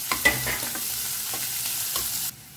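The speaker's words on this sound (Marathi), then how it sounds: "सो कांदो न्ही हांवें 1-2 मिनटांनी बरें हांगा फ्राय करून घेतला." Finely chopped onion frying in a pan for a quick dosa recipe, giving a soft steady sizzle with a few light stirring scrapes before it cuts off abruptly.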